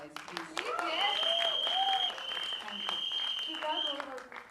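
An audience claps at a Marathi film event, the crackle of applause running steadily under loud voices and cheering.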